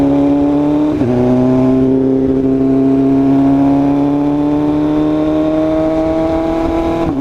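A BMW M3 accelerating hard, its engine pitch climbing steadily in a loud, close, continuous rising whine, with a brief gear-shift dip near the start.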